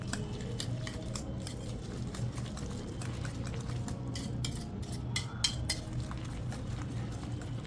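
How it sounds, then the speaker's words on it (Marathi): Egg batter whisked in a bowl, quick light metallic clinks and scrapes in short bursts over a steady low background hum, fairly quiet and without talking. "आता आपल्याला परत विस्करच्या मदतीने छान असं मिक्स करून घ्यायचं आहे."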